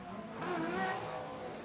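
An enduro rally car at the Pines Enduro crosses the finish line, a steady engine drone that swells slightly as it passes at moderate distance.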